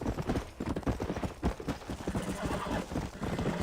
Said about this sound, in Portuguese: Olha a velocidade desse cavalo, meu brother.